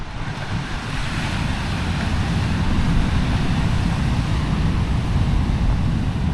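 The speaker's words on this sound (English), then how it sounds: "This is some proper brutal surf waves, and we got a stony beach here as well." Heavy surf pounds a stony beach on La Gomera, a steady loud roar of breaking waves and churning water mixed with wind buffeting, with no talk.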